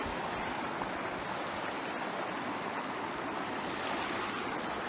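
Panther Creek, a forest stream in the Gifford Pinchot Forest, rushes and splashes steadily in a loud, continuous broadband wash, close by and heard alone without talk.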